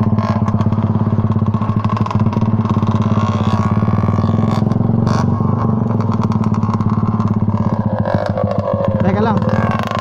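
Kawasaki HD3 two-stroke motorcycle engine on a test run, a loud steady buzzing drone with rapid clattering pulses held throughout, close by, with voices faintly underneath.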